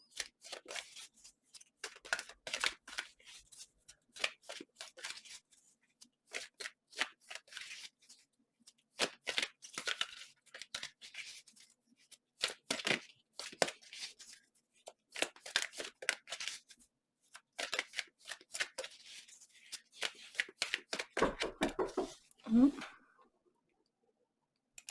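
Tarot cards being shuffled by hand in bursts of crisp riffling and flicking, close and fairly quiet, with short pauses between runs of shuffling and a brief louder bump near the end.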